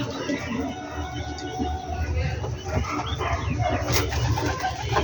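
Pet pigeons coo softly and repeatedly in a noisy setting, with a steady background murmur and faint voices.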